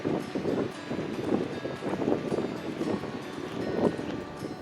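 Strong wind blows at a beach, a steady, gusty rumble buffeting the microphone for several seconds with no talking.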